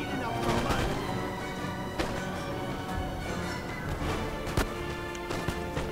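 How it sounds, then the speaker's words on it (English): Musket volleys ring out in a Napoleon: Total War battle with Russian forces, sharp cracks standing out against a dense, continuous din of battlefield noise, with a few distinct reports spaced across the scene. "Couple volleys, and about now we throw second batch of grenades"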